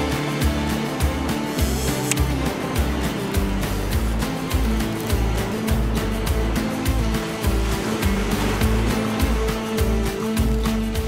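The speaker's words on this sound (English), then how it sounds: "nice little bit of swell hitting the coast here" Ocean swell rolls onto the coast at a land-based fishing spot, a continuous rushing surf with regular surging pulses that build and fall every second or so.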